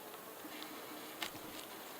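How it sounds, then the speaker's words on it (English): Honey bees hum softly around an open hive during a calm inspection, a faint steady drone with a brief louder buzz as one passes close. "The bees are really calm at this point."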